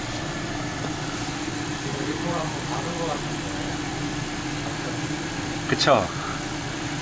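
A Renault Captur engine idles with no load, a steady mid-range hum with a faint electrical whine from a faulty alternator, while a voice speaks briefly over it near the end.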